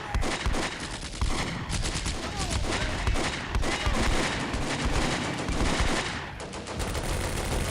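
Heavy, continuous gunfire from Combat Mission: Beyond Overlord, a World War II strategy game: dense overlapping rifle and machine-gun bursts with booming impacts, loud and unbroken throughout, with faint talk beneath.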